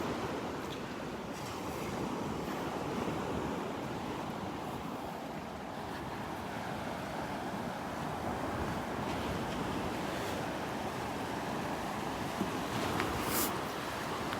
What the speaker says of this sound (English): If these waves would die down